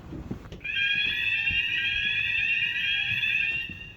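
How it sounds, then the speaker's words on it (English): A hotel fire alarm sounds in the early morning hours, a loud, steady electronic tone that begins after a short moment and holds continuously, shrill and close, with no talking. "The fire alarm went off in the whole hotel at 4:30 a.m."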